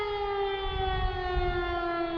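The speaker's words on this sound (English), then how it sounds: "Sirens are going off." A civil defense-style siren wails steadily at the Trans-Allegheny Lunatic Asylum, one sustained, slightly falling tone that stays loud and continuous throughout with no voices over it.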